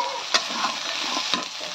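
Onions frying in a pan hiss in a bright, steady sizzle, with two quick scrapes of a stirring utensil standing out in the short burst.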